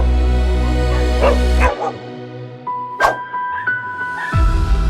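A dog lashing out at another dog barks a few times in short bursts over a low rumbling background, with a sharp bark standing out near the middle.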